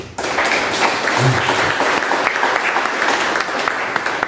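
Many hands clap together as a church congregation applauds during a worship service, a continuous, even wash of clapping that holds strong throughout, with a brief low thump early on.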